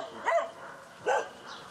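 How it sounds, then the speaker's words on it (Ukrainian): Dogs guarding a rubbish-strewn yard in Rivne give two sharp barks about a second apart, moderately close, with quiet in between. "На оборону помешкання стають собаки."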